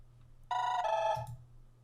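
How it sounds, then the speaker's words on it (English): An Android Studio phone emulator plays a simulated incoming call, its electronic ringtone starting abruptly with a bright chiming tone over a low steady hum, ringing clearly for about a second before fading. "we can simulate a call to the device"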